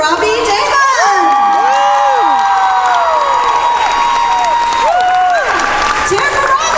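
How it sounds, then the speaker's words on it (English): An anime convention panel audience at Otakon cheers, whoops and applauds loudly for a Sailor Moon cosplayer playing Tuxedo Mask, with shouts and high voices rising over continuous clapping throughout. "Cheer for Robbie, yeah! Give him a big round of applause."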